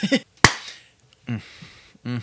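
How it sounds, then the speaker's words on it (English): A single sharp, light hand clap sounds once, close and brief, between short bits of talking. "Weak clap. Very weak."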